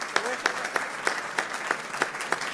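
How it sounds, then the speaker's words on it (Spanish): An audience at a political event applauds in a steady rhythmic beat, about three claps per second, with a soft crowd murmur beneath. "Ahora dejamos correr un poquito el aplauso."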